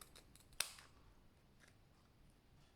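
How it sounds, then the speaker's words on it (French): A single sharp snip of scissors cuts through a small piece of ribbon for a no-sew ribbon rose, close and clear, followed by faint rustling in a quiet room. "Donc là on coupe. On vient couper ici."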